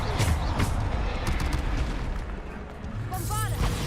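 A Bombarda explosion spell goes off in Hogwarts Legacy, a booming blast with rumbling low end amid ongoing spell combat noise, followed by magical chiming sparkles near the end; a voice speaks over it.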